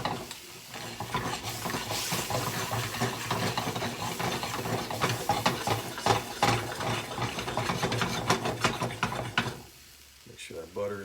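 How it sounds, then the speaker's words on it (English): Butter stirred into a sizzling pan sauce for pan-roasted chicken breast, with steady scraping and swirling over a constant fry, close and fairly loud, easing off near the end. "Stir to incorporate."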